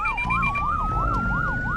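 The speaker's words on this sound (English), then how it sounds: "an ambulance is on its way" An Australian ambulance siren wails in a rapid, regular rising-and-falling pattern, close and loud, with road and engine rumble underneath.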